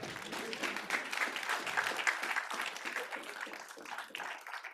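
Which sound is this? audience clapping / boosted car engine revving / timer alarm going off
audience clapping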